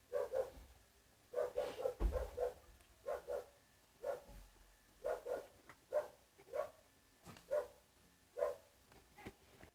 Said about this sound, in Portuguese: Controla seu cachorro